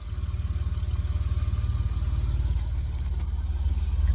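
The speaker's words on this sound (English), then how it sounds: "you can hear it run. I think that's the quietest this Jeep's ever been" A Jeep engine idles quietly and steadily, its low pulsing rumble continuous and close for the whole stretch with no voices over it.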